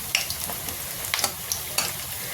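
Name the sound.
pakoras frying slowly on low flame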